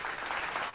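Brief burst of applause from a webinar audience welcoming a guest speaker, Bapak Ono, at a cloud computing technology session; steady, dense clapping with no talk.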